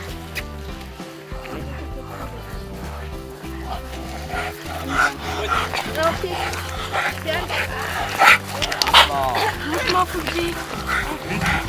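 Several dogs at an animal shelter bark, whimper and yip through a steady busy background, rising toward the end, with people talking throughout.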